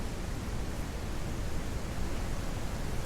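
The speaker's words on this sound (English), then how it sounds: "I'm so tired of the rain." Steady rain in the ranch video game Ranch Simulator during a thunderstorm, a constant even hiss of downpour filling the scene without breaks, loud and close with no voices.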